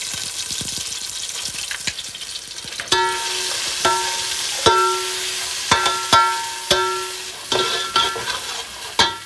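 Laksa paste frying in prawn-infused oil, a loud, close sizzle broken by repeated metallic scrapes and clanks of a utensil stirring against the pan at an uneven rhythm.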